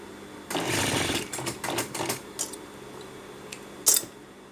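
A sewing machine stitches a trouser waistband during a waist alteration, running in a close, steady whir for over a second, then a few short stop-start bursts and a sharp clack near the end.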